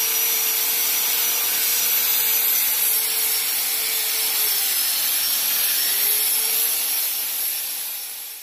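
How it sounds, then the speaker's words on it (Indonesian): Someone scrubs the casing of a Himoinsa generator set in one sustained, close abrasive rubbing sound that grinds on steadily without a break and fades slightly at the very end. "Kita gosok Mas, kita bersihkan."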